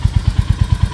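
A Royal Enfield Hunter motorcycle engine idles close and loud, giving a steady, rapid thumping beat at an even rhythm.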